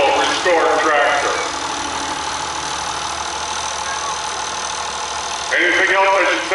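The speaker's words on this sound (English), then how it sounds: "This is a beautiful restored tractor." A restored International 1066 tractor runs in an antique truck show parade, its engine idling steadily with a low mechanical rumble, louder bursts at the start and end, and a voice talking over it.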